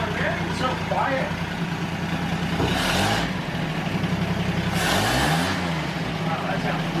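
The engine of a 1939 Chevrolet Business Coupe, a long-stored garage find, runs steadily at idle after starting, with two brief swells of revving. People talk over the running engine.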